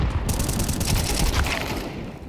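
Rapid overlapping gunfire in Counter-Strike 2 during an IEM Melbourne 2025 professional match, a dense, loud volley of shots with crowd-like roar underneath, no talk.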